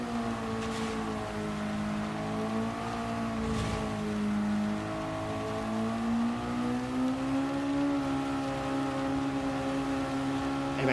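Mazda MX-5 roadster engine in Gran Turismo 7, racing in the wet at night, a steady droning hum that rises and falls gently with throttle and shifts, continuous and moderately loud with no talk.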